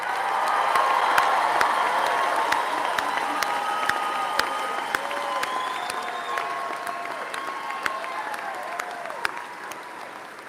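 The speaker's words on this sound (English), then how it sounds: "Please give these graduates a round of applause." A large crowd applauds and cheers for graduates at the ECU Fall 2025 university commencement, with steady, dense clapping and scattered shouts held at an even level for the whole stretch.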